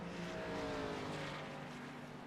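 Race cars rolling down pit road in a stock car racing video game at Talladega, a faint, steady blend of engine drones with shifting pitch, several cars heard together at a distance, no voices.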